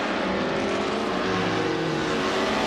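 Video-game F1 1950 race cars on the Magellan short circuit, a steady near engine drone with layered buzzing tones, closely matched cars running together without pause.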